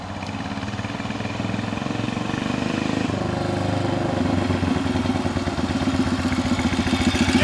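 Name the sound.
Whizzer motorbike engine, throttle opened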